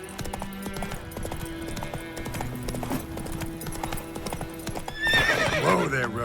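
Geralt's horse Roach in The Witcher 3 gallops with rapid, rhythmic hoof clip-clops, then lets out a loud, shrill whinny near the end, up close with a voice speaking over it.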